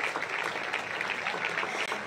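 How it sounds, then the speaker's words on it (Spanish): Mourners at a memorial tribute in Spain applaud the family of the late woman being honored, with soft, fairly distant clapping that continues evenly at a low level throughout. "Pido un fuerte aplauso"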